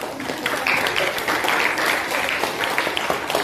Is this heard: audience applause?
yes